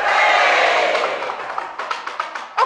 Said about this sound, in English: And then the crowd going.